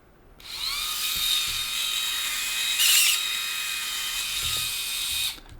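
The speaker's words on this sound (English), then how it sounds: "So did you hear the noise, the squealing?" A high, thin mechanical squeal from the blades of a Skull Shaver Pitbull Gold electric shaver whines steadily for several seconds while shaving hair, rising briefly in the middle, then stops.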